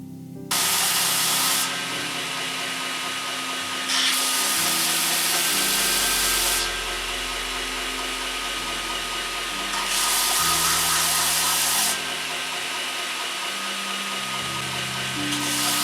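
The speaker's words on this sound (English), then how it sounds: "Let's head over to the belt sander and remove the excess material." A belt sander grinding ebony wood in several long passes, loud and close, with a steady motor whine underneath between passes.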